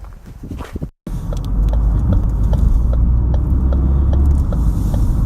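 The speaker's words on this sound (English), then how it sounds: "we're actually gonna drive west on US Highway 12" A car driving west on US Highway 12 through downtown Clinton, Michigan, a steady close engine and road rumble, with a repeating faint tick over it, after a brief cut to silence.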